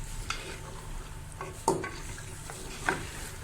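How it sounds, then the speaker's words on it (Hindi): Beef trotters (paya) are stir-fried in masala in a pan, giving a low steady sizzle with a few sharp scrapes and clinks of a spoon against the pot, heard close with no voices. "ये देखिए मैं इसको भून रही हूँ अच्छी तरह।"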